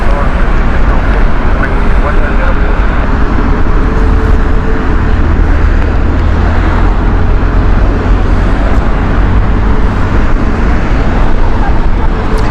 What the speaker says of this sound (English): This is their Airbus A319 from British Airways.